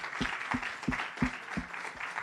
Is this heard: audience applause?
yes